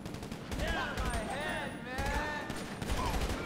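Gunfire in GTA Online, a dense stretch of shots and bursts layered with game effects and music, while people talk over it.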